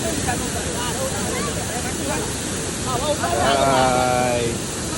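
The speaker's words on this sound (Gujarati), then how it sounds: "વરસાદ પણ પડતો હતો અને ઉપરથી જે ધોધ પડતો હતો" Waterfall at Saputara in the Dang hills during monsoon rain, a loud steady roar of falling water with a rushing wash that grows fuller toward the end, while voices chatter faintly underneath.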